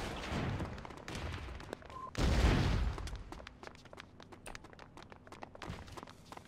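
Enemy gunfire rattles through a level of the PC video game Oni: rapid sharp shots crackle in bursts, with a heavy thud midway and lighter scattered shots continuing at moderate distance.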